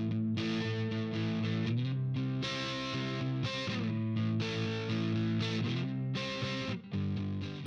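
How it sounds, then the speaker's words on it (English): Electric guitar chords played through the high-gain Modern Overdrive amp simulator in Pro Tools 11's Eleven Free plug-in, heavily distorted and thick, ringing in sustained strums with short breaks between them. "there's Modern Overdrive, which seems to be based on a certain popular high-gain dual rectifier amp for more intense distortion"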